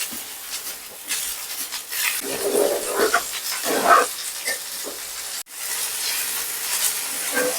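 Chili leaves stir-frying in a pan for a Kerala-style upperi, giving a steady close sizzle and hiss broken by brief scrapes of stirring.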